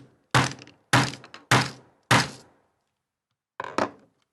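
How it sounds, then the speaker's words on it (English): A fashion snap popper is hammered into place on fabric: four sharp, loud thunks in quick succession, then a pause and two more lighter taps, each one close and crisp with a short decay, with no talk. "Position it on top and bang it into place."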